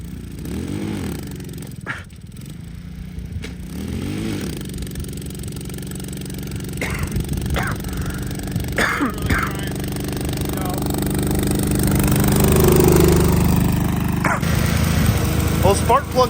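Tao Tao Chinese ATV engine running at high idle, a steady close mechanical drone that swells louder toward the end, with people talking over it and a dog barking now and then.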